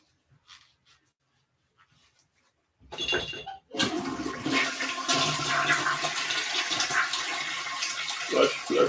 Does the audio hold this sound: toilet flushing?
yes